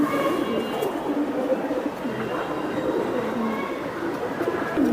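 Pigeons coo steadily at a pigeon seller's stall with Silver Giribaz, Bezi and Pankhi tumbler breeds, a dense continuous murmur of calls filling the space while people talk nearby.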